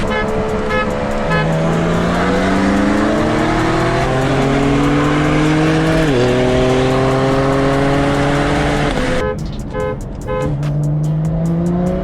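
BMW M2 and twin-turbo M4 cars accelerating hard in a 40 mph roll race, a loud close engine roar rising steadily in pitch through each gear, with a quick shift break before climbing again.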